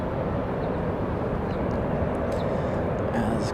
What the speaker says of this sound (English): Got American Airlines 795 coming in from Phoenix, Arizona, 737-800